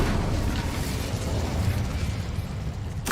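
An Incendio fire spell blast in Hogwarts Legacy, a continuous roaring, rumbling burst of flame that stays loud and dense for about three seconds, with a brief brighter flare at the end.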